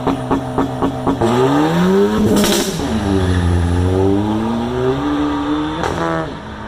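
A Ford ST hot hatch engine revs hard and accelerates up through rising pitch, drops briefly at a gear change, then climbs again, loud and close with no talking.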